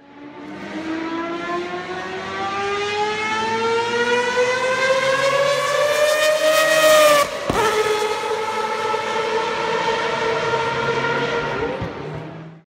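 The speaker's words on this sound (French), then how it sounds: "écoutez bien ce son de moteur légendaire." A Mazda 787B rotary-engine race car screams past, its high buzzing pitch climbing steadily and then dropping sharply as it passes, loud and close.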